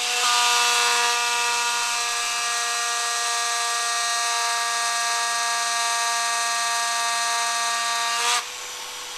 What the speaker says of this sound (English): you could try lubricating the copper where you're drilling